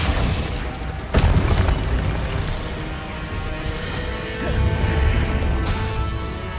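Glacius ice spell cast in Hogwarts Legacy, a sudden crashing burst with a shattering, crackling edge over a steady game soundscape, then a swelling whoosh a few seconds later; no talking.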